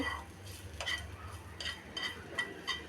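Chopped tomato being stirred in a pan for corn soup, soft quiet scrapes and light metallic taps of a spoon repeating in an uneven rhythm, close and faint.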